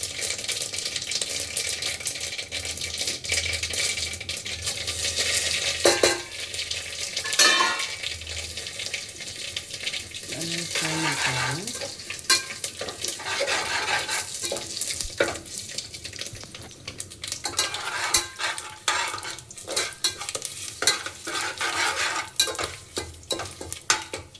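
Fenugreek leaves frying in oil with mustard seeds and curry leaves for pulao, a steady crackling sizzle with repeated stirring and scraping of the pan, close and moderately loud, without speech.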